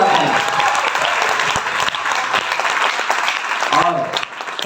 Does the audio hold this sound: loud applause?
yes